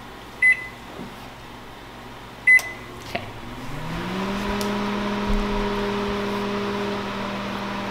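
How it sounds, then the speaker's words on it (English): A microwave oven softening frozen homemade waffles: two sharp keypad beeps, then the door thud and the steady low hum and whir of the oven running, close and clear with no voices. "she puts them in the microwave for a few seconds to soften them"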